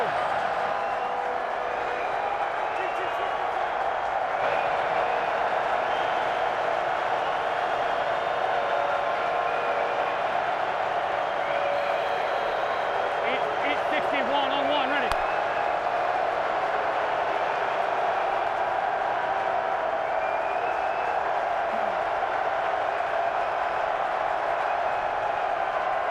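A steady roar from an XFL football stadium crowd at a Seattle Dragons vs St. Louis Battlehawks game, a continuous distant wash of cheering under a commentator's voice.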